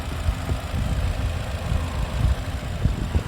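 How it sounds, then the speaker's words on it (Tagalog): A Toyota RAV4's 2.5 liter 4-cylinder engine idles steadily up close, a low continuous rumble with slight uneven pulsing and no talk over it. "Here's the Rav4 engine."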